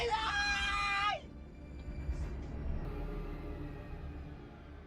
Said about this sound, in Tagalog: Napalingon si Magda at Dominic sa pinanggagalingan ng sigaw na iyon